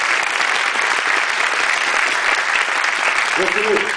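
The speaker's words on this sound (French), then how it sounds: "Merci de les applaudir" Audience at a French regional event applauding steadily, dense continuous clapping filling the room, with a voice speaking briefly near the end.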